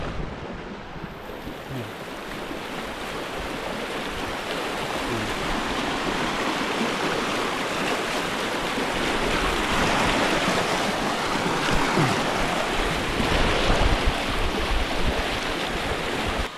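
A river at Brgy. Banaba Cerca in Indang, Cavite flows steadily, a broad continuous rushing wash that swells slightly louder toward the end, close and alone without voices.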